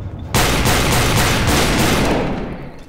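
Sustained rapid gunfire from an overpowered weapon in Gmod DarkRP erupts abruptly and roars on loudly and continuously, with a dense stream of shots that tails off slightly at the end.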